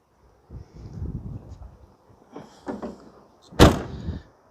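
A Peugeot Partner 1.9 D van's sliding rear door is handled, with a muffled rumble of the door rolling, a couple of clicks and a firm clunk near the end, close by with no talk.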